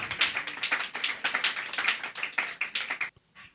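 Audience applause for a contestant at a gospel talent casting ceremony, brisk, moderately close clapping from a small crowd for about three seconds, then a sudden stop with a few last claps.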